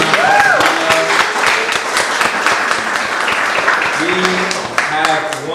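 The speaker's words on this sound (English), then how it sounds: "Please give a round of applause." A panel-discussion audience gives a round of applause, broad sustained clapping filling the room while a voice and tonal sounds rise over it at moments.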